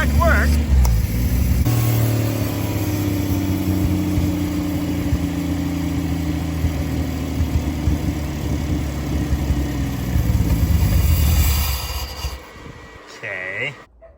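A turbocharged car engine idles with a steady, rough low rumble, close and fairly loud, before cutting out near the end, with a voice talking over it.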